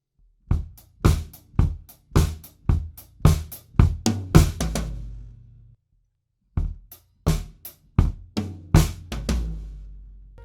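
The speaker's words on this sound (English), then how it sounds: "we have this descending tom pattern which sounds like this" Disco drum kit groove with kick, snare and hi-hat, ending in a descending tom fill of high tom, snare and two floor tom hits; crisp, close strokes in steady rhythm, a brief gap, then the pattern resumes.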